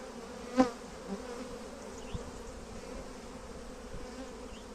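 Steady, soft buzzing of many honeybees on a hive frame fills the air, with a single brief tap near the start and faint shuffling underneath.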